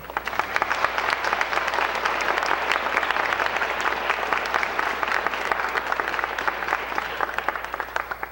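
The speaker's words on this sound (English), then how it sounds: "I think we all need to give a huge round of applause for the whole community." A large audience gives sustained, even applause for a community, dense overlapping claps holding steady at full strength from start to finish with no talk.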